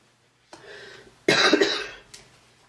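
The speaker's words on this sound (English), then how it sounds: "Excuse the cough." Two coughs, a short muffled one followed by a louder, harsher cough, close to the listener, then quiet.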